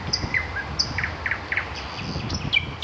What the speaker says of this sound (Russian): Слышите? Это соловьи поют.